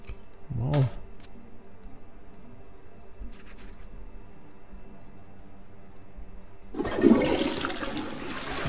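Water in the video game Twelve Minutes gushes and splashes briefly at the start, then quiet hum, then another burst of rushing water near the end; a faint voice murmurs in between.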